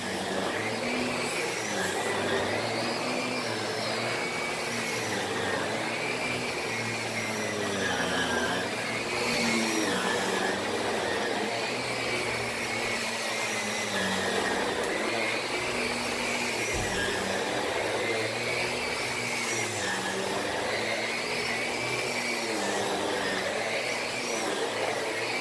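Steady drone of a Miele C2 canister vacuum cleaner working upstairs, close and continuous, its pitch wavering slightly as the nozzle is pushed back and forth over the floor, with no talking.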